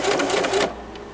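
A sewing machine stitches purse lining, its presser foot left raised, in a rapid close whirring run that lasts about half a second and then cuts off, leaving quiet room noise.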